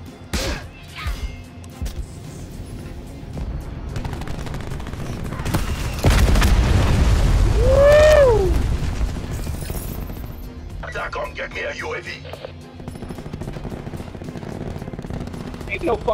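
Gunfire in Call of Duty: Black Ops 4, with bursts of shots scattered through the clip and a heavier run of fire around the middle, under speech and game effects.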